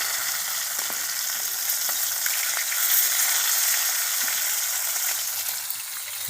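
Fish pieces fry in oil on a traditional clay stove (unun), browning with a loud, continuous, close-up sizzle and crackle that swells slightly in the middle, with no voices.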